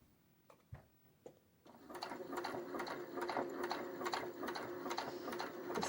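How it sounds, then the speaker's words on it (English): A sewing machine stitching along the edge of coaster fabric, starting after a few isolated clicks and then running in a fast, even rhythmic patter, close and clear. "Just a nice, easy stitch evenly along the side of the coaster fabric"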